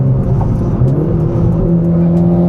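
A Mitsubishi Lancer Evolution X FQ-440 MR engine roars loudly and continuously close by, its pitch rising and shifting as the motor revs hard.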